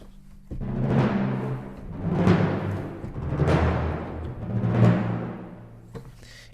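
Timpani rolls from a cinematic orchestral sample library swell and fade four times in a row, each sustained rumbling crescendo rising to a loud peak before easing off, with no voices over it.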